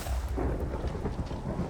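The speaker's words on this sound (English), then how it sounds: "we're at the surface and it's raining" Steady rain with low rumbling thunder in the block-building game Create: Arcane Engineering, a continuous dense wash of weather noise heard alone at moderate level.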